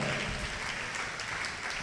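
A congregation at a Telugu church sermon claps steadily for the whole stretch, a fairly soft, even wash of many hands with no voice over it.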